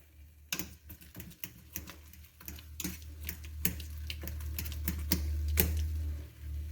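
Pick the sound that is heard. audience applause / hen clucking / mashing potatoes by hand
mashing potatoes by hand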